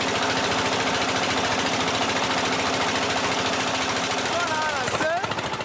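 A crowded passenger riverboat in DR Congo roars with the loud, unbroken drone of its engines, a rough steady din that fills the whole stretch, with a few rising tonal whines near the end.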